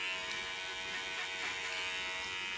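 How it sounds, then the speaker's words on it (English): A BaBylissPro hair clipper with a number 2 guard cuts hair clipper-over-comb, a steady close electric buzz with slight changes in tone as it passes through the hair, and no talk. "I'm doing a clipper over comb"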